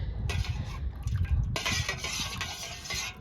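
Hot tallow soap mixture being stirred in a bowl, a steady wet swishing and scraping that grows brighter and busier partway through, close and alone with no talk.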